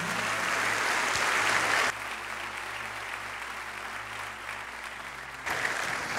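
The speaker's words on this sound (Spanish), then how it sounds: "Dale fuerte el aplauso a Dios." A church congregation applauds in a thick, even wash of clapping that drops back abruptly partway through and then surges again, heard over a low hum in a large room.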